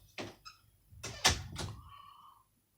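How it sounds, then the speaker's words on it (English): A door being shut nearby, with a few sharp knocks and thuds followed by a short creak as it closes, heard alone. "Close my damn door."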